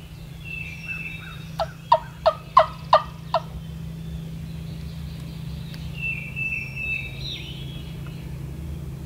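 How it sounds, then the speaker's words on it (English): A wild turkey gobbles from the ground on a hardwood ridge at sunrise: a quick burst of about five loud, rattling gobbles, then quiet woods with faint songbirds and a low steady hum. "The bird just gobbled on the ground behind me somewhere."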